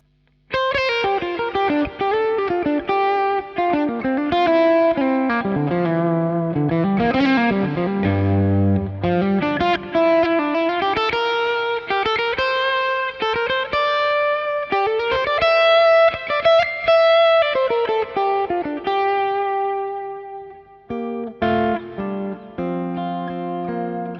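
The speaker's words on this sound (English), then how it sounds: "this is a Pro Reverb on 10, basically, with the bright switch on" A loud, overdriven electric guitar plays a continuous melodic line with bent notes and sustained tones, driven hard through a gritty, saturated Pro Reverb tube amplifier on 10 with the bright switch on.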